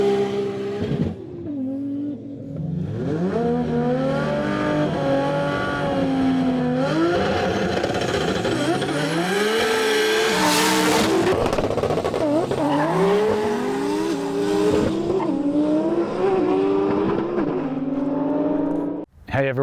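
A twin-turbo tuner car, such as a Nissan R34 GT-R, accelerates hard, its rising engine note climbing through gear changes with a tyre-squeal burst midway, loud and close throughout.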